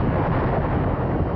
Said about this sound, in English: As the asteroid strikes, it causes an unimaginably huge explosion.